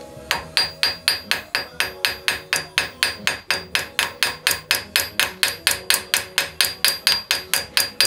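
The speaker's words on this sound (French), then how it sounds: "On fait tourner un petit peu le marteau pour pouvoir écraser le rivet" A metal hammer peens a small rivet through a spring and plates with rapid, evenly spaced ringing taps, close and loud, about three to four strikes per second for the whole stretch, with no talking.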